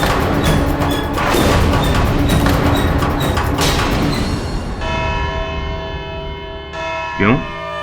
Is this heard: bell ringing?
yes